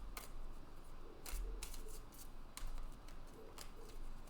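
Tarot cards being shuffled by hand: soft, rapid riffling and papery slaps in irregular bursts, quiet and close over a faint background hum, with no speech.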